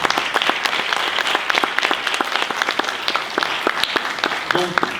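A festival audience at a social film awards ceremony breaks into lively applause, crisp individual claps in a thick steady wash, close and bright, with a brief voice rising near the end.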